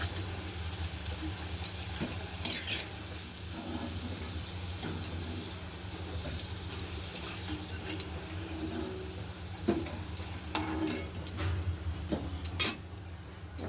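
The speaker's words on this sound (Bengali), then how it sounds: "লাল করে আলুটাও ভেজে নেব" Potato pieces fry in oil for a Bengali fish curry. A quiet, steady sizzle runs throughout, with scattered sharp metal clinks of a utensil against the pan. No one speaks.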